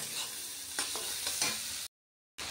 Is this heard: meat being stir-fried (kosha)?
yes